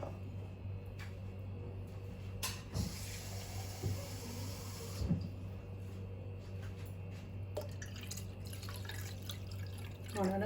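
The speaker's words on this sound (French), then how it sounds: "Je vais rajouter un peu d'eau." Water trickles and drips into a small bowl of saffron mixture up close, a few soft splashes and clinks over a quiet kitchen hum.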